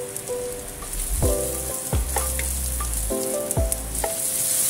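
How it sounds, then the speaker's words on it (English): Mung bean sprouts with ground Sichuan pepper stir-frying in a hot wok, a steady close sizzle broken by two rounds of spatula scrapes and clanks against the pan. "add in ground Sichuan pepper, and stir fry and mix everything"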